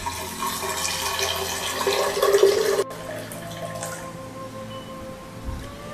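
Water poured into a blender for aloe vera lemonade with aloe gel and lemon juice, a steady splashing pour that stops abruptly midway, leaving quiet room tone with faint drips.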